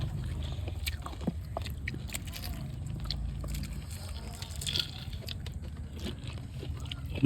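Someone chews crunchy bhelpuri, a puffed-rice snack, outdoors at night in a village, with soft irregular crunching and biting close to the microphone over a low, steady background hum.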